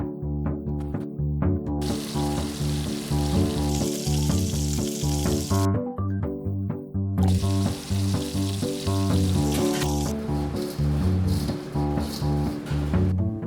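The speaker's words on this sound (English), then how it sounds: "a fairly decent portion of what we do here is frying things in one form or another" Food fries in a busy Southern restaurant kitchen in Los Angeles, set in a former Chinese restaurant. A loud, steady sizzle and crackle runs without a break, with no voices.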